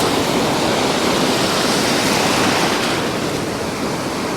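Surf breaks and washes up a Scottish beach around a knee-deep angler, a loud, continuous roar of churning water and foam with little variation.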